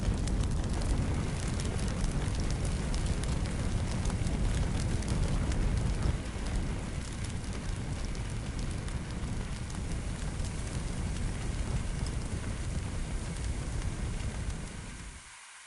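A fire burns in Fire Fighting Simulator with a loud, dense, steady roar and crackle that holds for about fifteen seconds before cutting out abruptly at the end.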